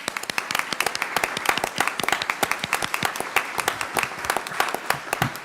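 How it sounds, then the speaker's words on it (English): Audience members at a school board business meeting give a quick round of applause, a moderate crowd clapping steadily with distinct individual claps, fairly near and without talk over it. "just give them all a quick round of applause"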